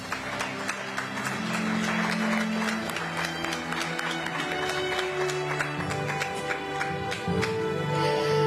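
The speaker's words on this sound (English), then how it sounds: "Ladies and gentlemen, huge round of applause, please." Audience applause at the CNN News18 Indian of the Year 2025 awards ceremony in Delhi, steady dense clapping sustained for about eight seconds, with background music and tones running underneath.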